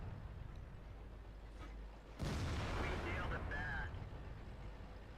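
A tank cannon shot fired at an IS-4 in World of Tanks from an AMX 50 120: a single loud, broad boom that breaks in sharply over a steady low engine rumble and rings on for about a second and a half before fading back.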